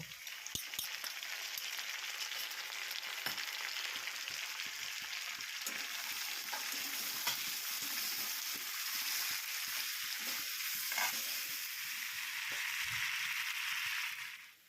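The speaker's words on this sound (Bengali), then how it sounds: "স্বাদমতো নুন, হলুদ এবং বেটে রাখা আদা, জিরে, ধনে দিয়ে কিছুক্ষণ কষিয়ে নেব" Salt, turmeric and ground ginger, cumin and coriander paste sautéing in a pan for a Bengali pui shaak curry, a steady hiss with a scrape or clack of the spatula every so often, then a sudden stop.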